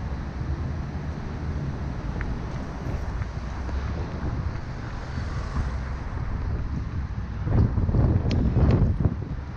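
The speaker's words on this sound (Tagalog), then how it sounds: "Hangin ngayon guys." Strong wind gusting outdoors on a walk near a small park in bad weather, a steady low roar buffeting the microphone that swells louder near the end.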